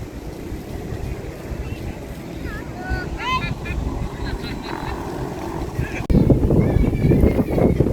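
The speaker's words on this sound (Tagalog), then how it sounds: "Lakas kasi ng hangin mga idol" Strong wind buffets an outdoor microphone with a low, roaring rumble that grows louder and harsher near the end, while people talk and birds chirp faintly over it.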